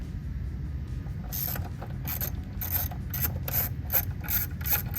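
A ratchet wrench with an 8mm socket is worked on a Mustang GT engine during an alternator swap, producing bursts of quick metallic clicking strokes over a low background hum, close up and with no voices.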